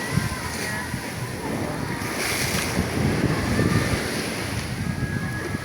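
Ocean surf rolling and crashing on the shore, a continuous roar of water mixed with gusty wind buffeting the microphone.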